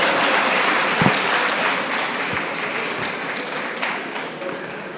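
A conference audience at an official launch event gives a steady, dense round of applause for Professor Abba Gambo, sustained and fairly loud throughout.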